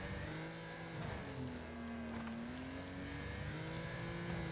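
Race cars in the video game Wreckfest drone steadily with rising and falling engine pitch, several motors overlapping at moderate loudness, with no talking.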